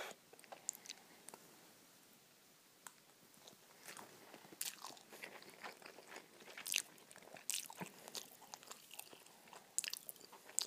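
Japanese noodle soup in miso broth being eaten close up, with soft crunchy bites, chewing and wet slurping clicks in an irregular rhythm against a quiet background, a few sharper bursts standing out.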